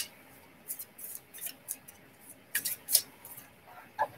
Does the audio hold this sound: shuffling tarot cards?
yes